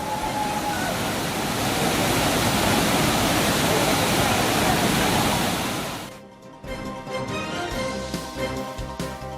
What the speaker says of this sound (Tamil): ஒகேனக்கல் அருவிகளில் தண்ணீர் ஆர்ப்பரித்து கொட்டுவதால் ரம்மியமாக காட்சியளிக்கிறது